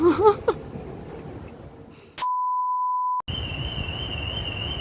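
In Rome, a steady electronic alarm tone sounds for about a second after a faint squeal, then a higher continuous beeping tone follows over a low hum.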